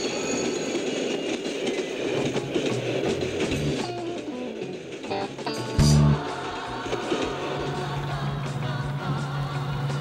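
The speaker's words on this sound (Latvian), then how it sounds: "Kāpēc labo? Vilciens!" Train rolling past close by, loud rumbling wheels with rattling, clanking cars and squeals, a brief heavy thump midway, continuous throughout without talk.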